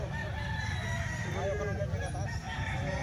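A ten-month-old Golden Boy fighting rooster crows in a long, wavering call close by, over a steady background drone, with faint voices in the background.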